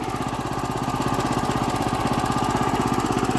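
A garden tiller's engine, the farm machine used to prepare vegetable plots, runs steadily and loudly close by with a fast pulsing chug and no pauses.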